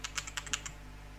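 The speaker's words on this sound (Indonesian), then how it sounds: "Tinggal ketik di sini print" About eight quick, light keystrokes tap on a computer keyboard within a second, faint and close, then stop into quiet background hum.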